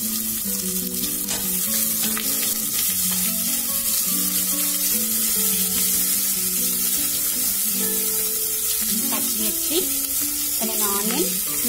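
Cumin-type spice seeds and bay leaves frying in hot oil in a pan for tomato bagara rice, a steady close sizzle running the whole time without talk.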